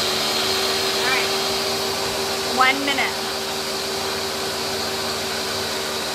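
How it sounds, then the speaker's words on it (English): A kitchen blender runs steadily as a continuous whir under a voice, with brief spoken remarks rising above the motor noise. "I hate my blender these days."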